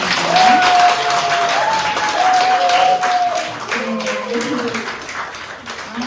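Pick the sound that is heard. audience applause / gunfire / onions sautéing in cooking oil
audience applause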